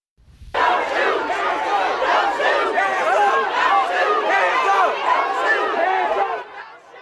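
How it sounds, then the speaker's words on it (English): A huge crowd of protesters in Ferguson chants and shouts at police, a loud, sustained roar of many voices that holds steady for several seconds before fading slightly. "look at that huge crowd there chanting at police not to shoot them as they hold up their hands"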